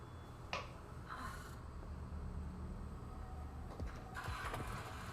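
A motorcycle engine in a RWBY animated episode cranks and catches amid a few sharp clicks and a faint hum, quiet and brief.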